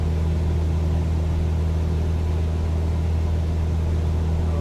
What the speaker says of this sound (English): the engine still sounds underpowered.